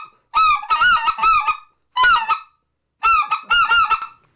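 A goose call squeals in three loud, close bursts of rapid honking notes separated by short pauses, with no voices.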